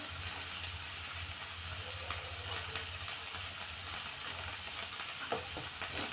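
Soaked chana dal is stirred into chopped cabbage frying in a pan for cabbage bhaji, a soft continuous sizzle with faint scraping of the spoon, quiet and steady, no talking.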